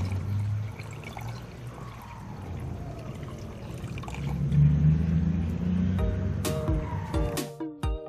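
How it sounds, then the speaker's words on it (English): Nitric acid mixed one to one with water pours with a low, continuous gurgling trickle, while clinks and knocks of glass or metal sound near the end. "I use nitric acid mixed with water 1:1."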